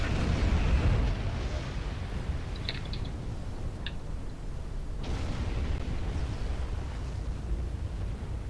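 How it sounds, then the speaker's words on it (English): Explosions in a space combat video game with asteroids, a rumbling low-heavy blast at the start followed by continuous booming roar and scattered sharp pops and clicks. "Pretty explosions."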